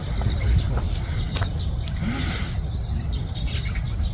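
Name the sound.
birds chirping in Yongsan Park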